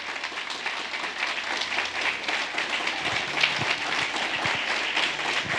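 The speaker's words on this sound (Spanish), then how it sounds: "Dele fuerte ese aplauso al Señor," Congregation clapping in a church service, a sustained fairly distant round of applause with a low hum underneath, growing slightly sharper toward the end.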